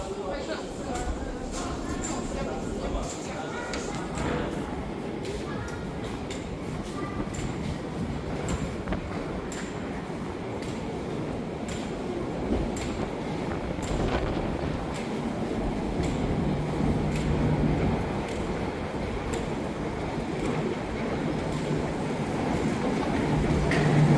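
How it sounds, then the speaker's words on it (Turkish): A Prague metro train rumbles through an underground station, a steady roar building louder toward the end, with people talking nearby. "Şöyle bir Prag metrosuna giriş yapıyoruz."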